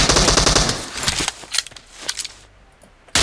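Rapid bursts of automatic gunfire in a video game, a loud dense rattle at first, then scattered single shots and a final sharp burst, with no talking.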